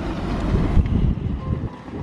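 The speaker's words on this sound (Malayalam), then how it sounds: "ഇവിടെ നല്ല കാറ്റുണ്ട് കേട്ടോ. കാറ്റടിക്കുമ്പോ തണുപ്പ് കുറച്ച് അധികമാണ്." Wind blows steadily through the cold mountain valley of Haa in Bhutan, a loud, close, buffeting rush against the microphone with no voices.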